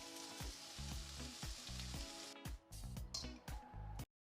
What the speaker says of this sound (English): toss in the peanuts just to fry for a few seconds